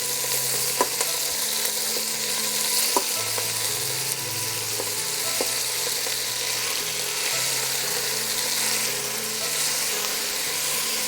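Ground beef browns in a hot skillet with a steady loud sizzle, while a utensil breaks it apart, adding scattered scraping clicks throughout.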